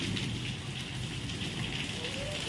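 Steady rain falling outdoors, a dense continuous hiss of drops on surfaces at an even level throughout, with no speech.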